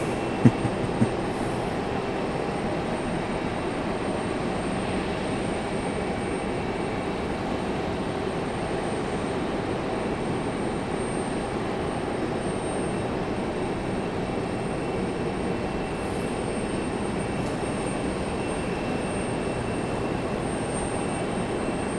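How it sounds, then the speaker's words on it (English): A JetBlue jet airliner takes off at Raleigh-Durham International Airport, its engines a steady, heavy roar that holds unbroken and fairly distant for over twenty seconds. "JetBlue blasting off"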